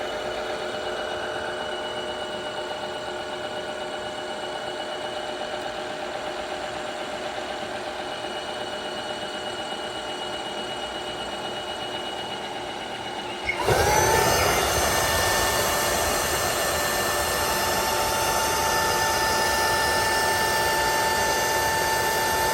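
An Ultenic AC1 wet-dry vacuum runs its self-cleaning cycle, a steady close motor drone that abruptly shifts midway into a louder, higher whirring hum and continues without any talking.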